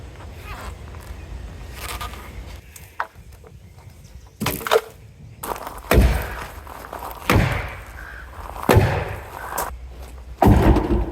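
Sledgehammer pounding deck lumber while building a deck, striking about half a dozen heavy, close thuds at irregular intervals, with quieter knocks and shuffling between blows.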